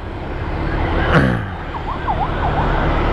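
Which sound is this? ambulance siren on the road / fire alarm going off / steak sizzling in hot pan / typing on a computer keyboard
ambulance siren on the road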